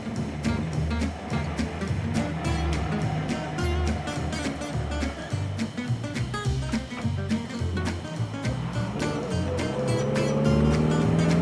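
A vintage MG TC convertible drives along, its engine note rising and falling with gear changes and a steady road rumble, close and continuous without talk.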